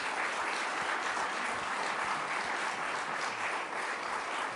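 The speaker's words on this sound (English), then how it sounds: "Let's give them a round of applause." An audience at a senior day town hall meeting applauds a panel with continuous, even clapping, moderately distant and steady throughout, with no speech over it.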